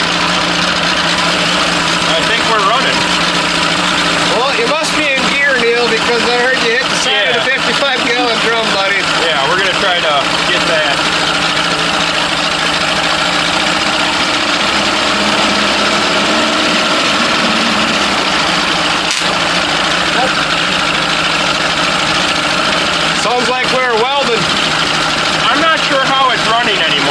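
A free secondhand boat motor runs with a steady, loud engine drone and vibration, one continuous rumble from start to finish with voices talking over it.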